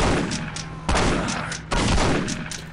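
Gunfire in the shooter game Postal 2: three loud, sharp shots spaced roughly a second apart, each trailing into a long echoing decay, with no talk over them.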